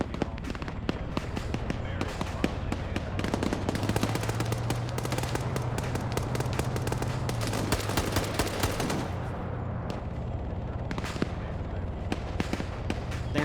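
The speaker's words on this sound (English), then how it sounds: "we just had infantry shoot at us from the east" Dense, chaotic automatic gunfire from infantry in a military video game, with rapid overlapping bursts and a constant rattle of shots, loud and sustained, thinning out toward the end.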